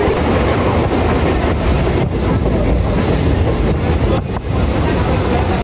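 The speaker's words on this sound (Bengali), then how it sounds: "হাওড়া বর্ধমান যেটা আমরা ধরেছি সেইটারই 91-90 চলছে স্পিড" A Howrah–Bardhaman local train runs at around 90 km/h, a loud, dense rumble and rattle of carriages with wind roar heard from inside, continuous throughout.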